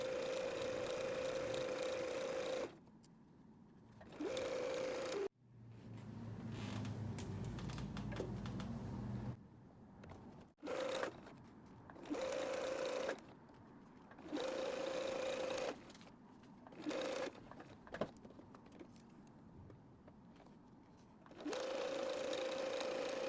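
Sewing machine stitching fabric pieces for bunting, a loud steady mechanical hum in repeated bursts broken by short pauses while the needle is set down and the fabric is turned.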